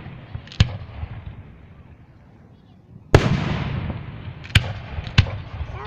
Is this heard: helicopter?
no